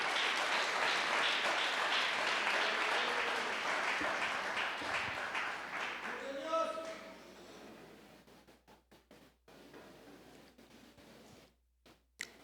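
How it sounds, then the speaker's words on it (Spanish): Church congregation applauding loudly during a worship service, a dense sustained roar of clapping that thins out and fades after several seconds, with brief voice tones rising partway through. "Fuerte ese aplauso a nuestro Dios."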